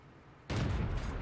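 Tank cannon in the World of Tanks video game fires a single sharp blast over quiet engine hum, followed by a loud sustained rumble and crackle.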